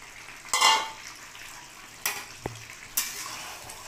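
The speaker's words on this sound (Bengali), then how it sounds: "নাড়াচাড়া করে দিই" A spoon scrapes and stirs Hyderabadi-style Bengali mutton kosha with fried potatoes in a pan, giving three separate bursts of scraping with a faint sizzle between them.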